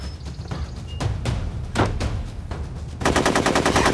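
Gunfire in a Spanish-language action film: scattered single shots give way to a rapid, loud automatic burst at the end, with no talking.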